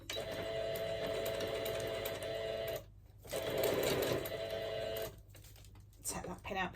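A sewing machine runs a quarter-inch patchwork quilting seam in steady bursts, its close, even whirring broken by two brief pauses around the middle and near the end.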